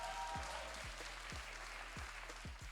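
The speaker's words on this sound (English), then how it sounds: "give them a warm round of applause" Crowd applause greeting players arriving for a post-match interview at a professional League of Legends esports broadcast, a steady wash of clapping continuing under low event hum with faint rhythmic thuds.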